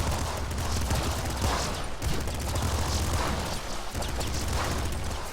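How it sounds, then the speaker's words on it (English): A triple minigun firing in a video game: a dense, continuous roar of rapid gunfire at constant loudness, barely pausing, filling the whole stretch without speech. "Give me a triple minigun."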